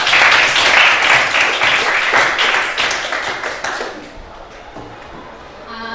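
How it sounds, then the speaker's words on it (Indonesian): A classroom group finishing its presentation receives lively clapping from the class, loud and full at first, then thinning out and fading away over several seconds. "kita berikan aplaus untuk kelompok"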